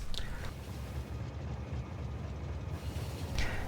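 A train rolls along in Factorio, giving a steady, continuous rumble and clatter at moderate volume, with brief higher whistling tones at the start and the end.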